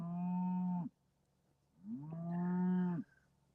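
An angry cow on a cold farm pond pasture gives two long, loud bellowing moos, the second rising and drawn out, with a short quiet gap between them and no talking.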